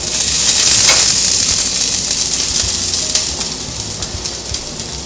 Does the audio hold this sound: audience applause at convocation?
no